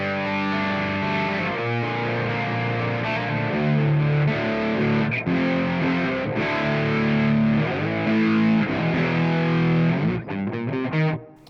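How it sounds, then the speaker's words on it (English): An electric guitar runs through a stereo reverb pedal on a pedalboard, its chords and sustained notes washing out with a long, spacious tail, steady and loud throughout. "Reverb."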